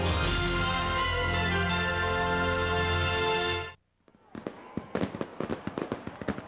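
Fireworks shells crack and pop in a rapid, irregular string of sharp bursts at a rock concert pyrotechnics show, following a loud sustained musical roar that cuts off abruptly.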